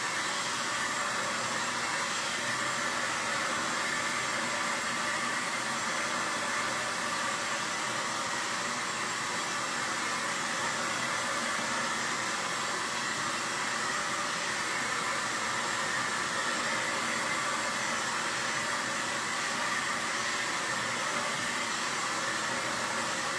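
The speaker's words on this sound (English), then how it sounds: "I'm going to hit this with the blow dryer one more time." A hair dryer blows steadily and loudly for the whole stretch, a constant broadband whoosh with no pauses and no voices.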